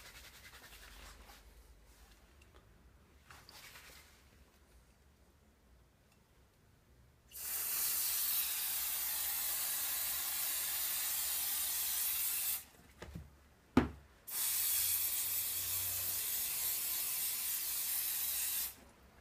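Ultra protector aerosol spray for shoes hisses out in two long, steady bursts, loud and close, separated by a brief pause with a faint clack and preceded by quieter handling scrapes.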